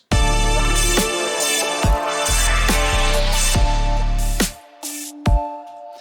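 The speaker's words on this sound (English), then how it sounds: "it's got a big, noisy, annoying kind of pseudo guitar thing in it." A loud, gritty, distorted synth line with a guitar-like buzz, pounding in rhythmic chords before dropping away into brief sparse hits near the end.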